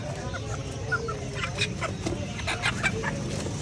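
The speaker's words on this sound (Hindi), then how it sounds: "ये नीचे क्या पड़ा है देखो ये तो मुर्गी है" A hen clucks in short bursts at a busy market, close by and mixed with steady crowd noise and background chatter.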